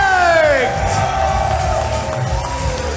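Wrestling crowd in an arena in Manchester cheers and whoops loudly as a tag team makes its entrance, a sustained roar with rising shouts over a descending entrance tone, with commentary talk audible.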